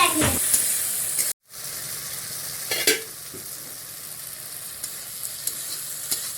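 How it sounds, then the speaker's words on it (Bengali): Curry sizzles and is stirred in a pan as its water cooks off, a continuous close frying hiss with a short break and a few scraping strokes. "জলটাও শুকিয়ে এসেছে"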